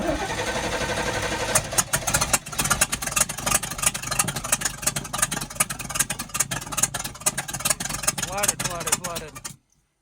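A flooded big block engine in an abandoned RV is cranked over, a loud steady churning with a fast rhythmic starter pulse that runs for several seconds, then cuts off abruptly, with voices under it.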